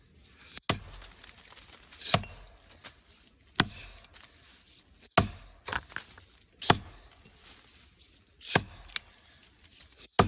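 Sharp double-bit axe strikes biting into soft poplar wood, about a dozen irregular chops spaced roughly a second apart, close by, with quiet rustling between blows.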